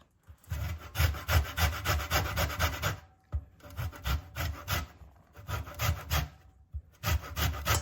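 Lemon zest is grated by hand in a kitchen, producing rapid rasping scrapes in three bursts separated by short pauses, close and fairly loud with no talking.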